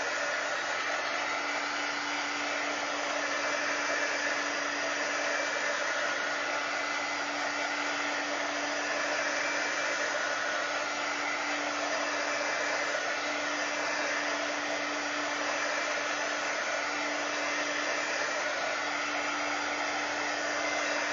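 A heat tool blows hot air to set a stenciled fabric hem, a steady, loud roar with a constant low hum, running without pause for about twenty seconds and no voices.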